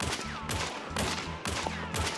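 An Officer Carbine rifle in Hunt: Showdown fires at a wall, five sharp, evenly spaced shots about half a second apart, each with a short ringing tail.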